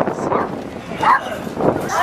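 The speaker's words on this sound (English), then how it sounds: "There's a lot of dogs." Many dogs at a pet station during a jazz festival by Lake Biwa give short barks, yips and whimpers in quick bursts, close by and mixed with people talking.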